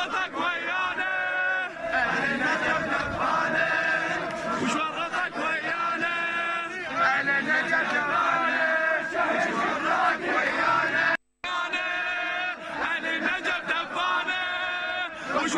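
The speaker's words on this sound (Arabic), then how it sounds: "ورددوا هتافات منددة بالجرائم والانتهاكات ضد المنتفضين" Protesters in Najaf, Iraq, chant slogans in unison during a street demonstration, a loud, rhythmic crowd of many voices repeating lines continuously with a brief cut midway.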